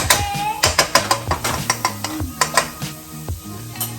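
Clattering and stirring in a hot pan while butter goes in for Tuscan shrimp, with a sequence of close, sharp utensil knocks and scrapes against metal over a soft, low sizzle.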